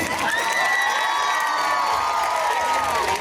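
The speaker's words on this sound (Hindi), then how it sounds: "जोरदार तालियां प्लीज" Large crowd at a school celebration event cheering and shouting loudly, with high excited voices and whoops dominating over faint clapping, sustained and close throughout.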